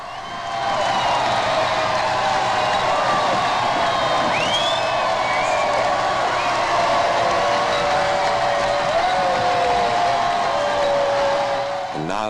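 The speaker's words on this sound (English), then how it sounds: "The huge, cheerful crowd that has waited so long and patiently roars and waves its welcome." A huge crowd roaring and cheering at the royal wedding of Lady Diana Spencer and Prince Charles, a sustained, loud swell of cheers and whoops with scattered whistles that rises quickly and holds for several seconds.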